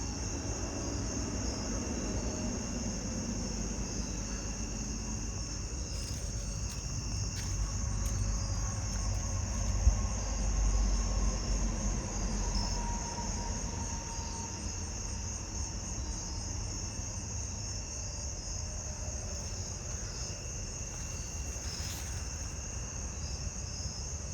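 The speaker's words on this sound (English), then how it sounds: "And there's some more jumping bush crickets back here too." Jumping bush crickets chirp steadily in a backyard at night, their high trilling layered over a faint, constant insect chorus and low background rumble, with no talk.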